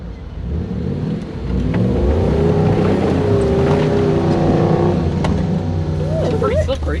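BJ40 Land Cruiser with a 1UZ engine and manual gearbox, revving hard on a slippery muddy off-road track, a loud sustained engine roar with rising pitch over the last seconds.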